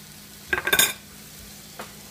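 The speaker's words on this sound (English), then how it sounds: "I'm going to add a good amount of butter." A good amount of butter sizzles in a hot pan while a utensil stirs and scrapes against it in a brief cluster of close clinks. A softer scrape follows over a low, steady hiss.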